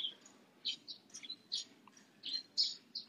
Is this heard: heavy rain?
no